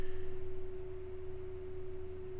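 An Eve Online propulsion module gives off a steady, pure electronic tone with a gentle pulsing warble, faint and continuous with no other sounds.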